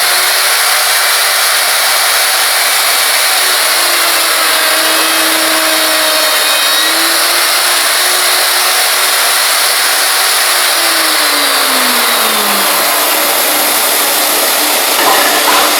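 A power tool bores a hole in wood for a bench vise mortise, a loud, steady, close-up whine that drops in pitch as the cutter bites, running without pause and with no talk.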